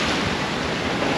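Five-foot ocean waves slap and rush against the bow of a sailboat sailing from Texas to Florida, a loud, continuous wash of surf and spray mixed with steady wind noise on the microphone.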